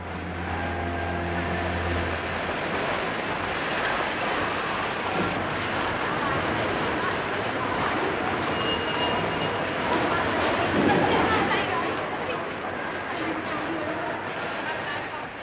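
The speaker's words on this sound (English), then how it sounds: "now arriving at platform 10 in Waverley Station" The Elizabethan steam-era express rolls into a platform at Edinburgh Waverley Station, a dense, steady rumble of carriages and wheels lasting throughout, loud and continuous.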